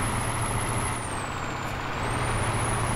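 A truck's air brakes in American Truck Simulator give a loud, steady hiss of released air over a low engine rumble, lasting about three seconds with a faint high whine on top.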